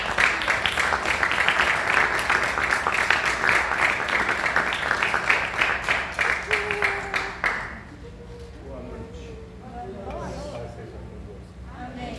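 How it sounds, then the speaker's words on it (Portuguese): Church congregation applauding for about eight seconds as a dense, steady wash of clapping, then it stops and quieter room sound follows. "Vamos aplaudir o Senhor pela palavra dele."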